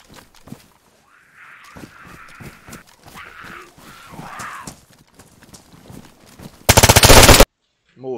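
Rapid bursts of VSS rifle gunfire crack out in a first-person shooter game, with scattered quieter shots and one dense, loud rattling volley near the end.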